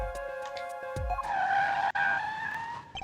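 A car skids with a sustained tire squeal, then its engine surges as it speeds off, a loud stylized video-game effect from Apollo Justice: Ace Attorney, with bursts of music cues before it.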